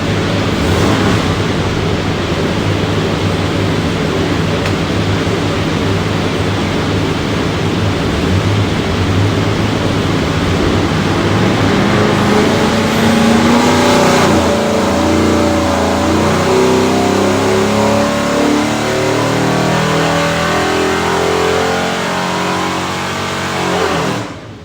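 A 7.4L LS airboat engine runs on a dyno with a loud, continuous roar that swells slightly mid-run and drops off at the very end. No voices are heard over it.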